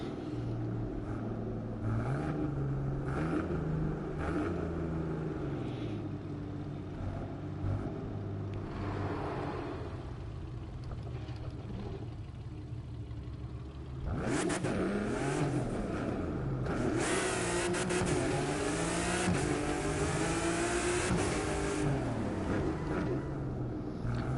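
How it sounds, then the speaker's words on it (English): Video game car accelerating in The Crew 2, engine droning and shifting pitch, then surging louder and revving harder midway through; no talking. "This car's got great acceleration and also very good braking."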